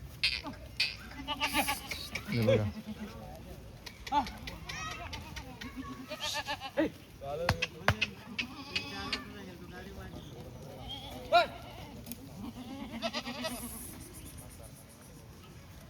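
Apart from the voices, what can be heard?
Rajasthani Marwari goats bleating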